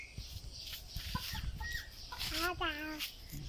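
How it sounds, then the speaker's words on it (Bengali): Chickens cluck repeatedly up close, with a hen's rising squawk standing out midway, amid rustling and faint background voices. "এই আরেকটা তিনটা মুরগি"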